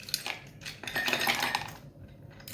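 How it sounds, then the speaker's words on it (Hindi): Ice cubes drop into a glass of cold coffee, making a quick run of bright clinks and rattles close by that settle after about two seconds. "ये आइस क्यूब डाल दिया आपने"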